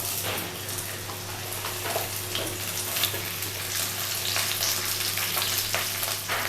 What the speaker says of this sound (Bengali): আমার তেলটা গরম হয়ে গেছে। আমি এখানে ভেন্ডিগুলো ছেড়ে দেব।